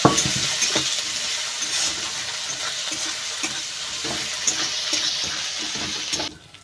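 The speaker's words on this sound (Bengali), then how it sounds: "পেঁয়াজ আর আদা রসুন বাটা ভালো করে ভেজে নেব।" Onion with ginger garlic paste fries in a pan for an egg biryani, a continuous hissing sizzle broken by frequent spatula scrapes, near and steady before cutting off abruptly near the end.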